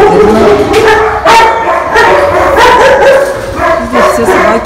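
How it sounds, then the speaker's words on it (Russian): Several dogs bark at a dog boarding kennel, loud and close, with repeated sharp barks, yips and whimpers overlapping throughout. "Здесь все собаки."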